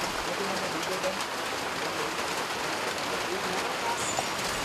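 Steady, even rain falls in Sri Lanka, a dense continuous hiss of drops hitting surfaces that stays at one level for the whole stretch.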